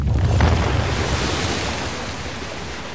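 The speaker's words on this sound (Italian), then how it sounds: "Ecco che arriva l'acqua." Water rushing in during a scene from the video game Uncharted: The Lost Legacy, a steady, loud roar of surging water like heavy surf that holds throughout without pause.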